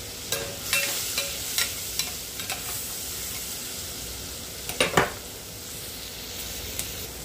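Minced garlic and onion sizzling in a pan for homemade mushroom soup, a steady close frying hiss with a few soft stirring clicks and scrapes, no talking.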